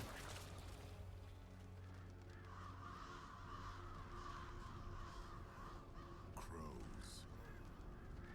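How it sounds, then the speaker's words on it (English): Crows caw in a Diablo 4 scene, several harsh calls repeating over a low ambient drone and rustling background, moderately distant and fairly quiet, with no clear speech. "Crows."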